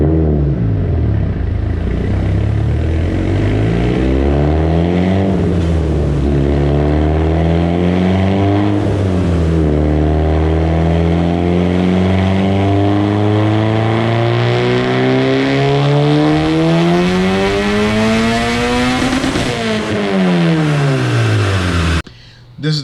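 A Mitsubishi Evo 8 with a turbocharged 4G64 engine on its stock ECU revs repeatedly and loudly, the pitch climbing and falling in long sweeps, close and sustained for over twenty seconds before cutting off sharply.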